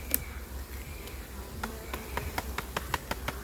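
Honeybees buzz steadily around an opened hive while sharp clicks and taps of hive tools and frames cut through the faint background hum.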